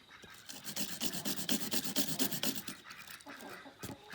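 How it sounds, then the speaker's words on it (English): Close, rhythmic scraping of a wire brush scrubbing corroded secateurs, with rapid back-and-forth strokes that build in the middle and then taper into a few slower rubs. "just rub part with the wire brush."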